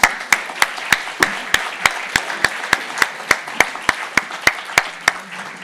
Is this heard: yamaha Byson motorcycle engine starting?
no